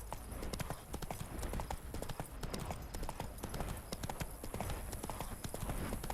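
The horse Roach gallops in The Witcher 3, with steady, rhythmic hoofbeats pounding close and continuous throughout, over a faint hiss of outdoor ambience.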